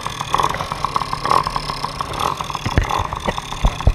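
An MBK 51 Magnum moped with a Doppler ER3 variator is started, its small two-stroke engine catching with uneven pops and then running with a buzzing, fluctuating idle, loud and close.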